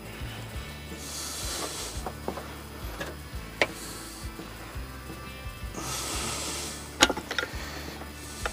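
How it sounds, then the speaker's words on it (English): Old-style torque wrench tightening the flywheel nut on a Merc 60hp outboard to 100 foot-pounds, heard as low, uneven mechanical creaks and a few sharp clicks and ticks, close by and fairly quiet with no talking. "I'm using the old-style torque wrench."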